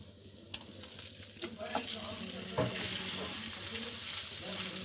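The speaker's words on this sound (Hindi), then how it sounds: "अब इसको भी अच्छी तरह हम इसके साथ फ्राई कर लेंगे, ताकि लहसुन अदरक की खुशबू इसमें चली जाए" Chicken fries and sizzles in oil with garlic and ginger in a pan, a steady crackling hiss with occasional stirring clatters and scrapes, close and continuous.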